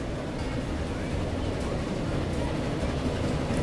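A train in a train-building video game, a steady dense rolling rumble of wheels and carriages that stays even and fairly loud throughout, without clear breaks.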